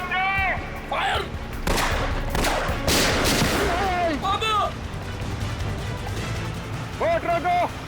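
Gunfire in a TV crime drama: a close, loud volley of rapid shots and cracks, with shouting voices before and after.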